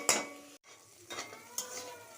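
Vegetables for vegetarian fried rice fry lightly in a pan, a quiet sizzle broken by a few sharp spatula scrapes and clinks against the metal, close by and without speech.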